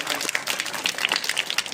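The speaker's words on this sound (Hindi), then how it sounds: "स्वागत और अभिनंदन जोरदार तालियों के साथ में" An audience claps in welcome at the third annual function and prize ceremony of a government English-medium school in Rawla Mandi, quick scattered clapping with voices sounding through it.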